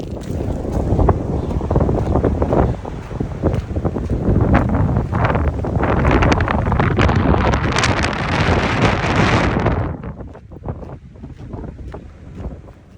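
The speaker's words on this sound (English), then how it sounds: "It's gonna be windy on all the fields." Strong, steady wind roars across open fields in the Cumberland Valley on a hiking trail, buffeting the microphone loudly for about ten seconds before easing into lighter gusts.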